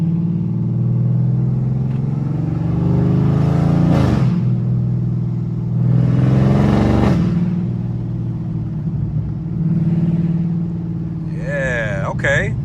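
A car driven on the road, its engine rumble swelling into two revving surges and dropping back as it shifts gears, with a faint voice at the very end.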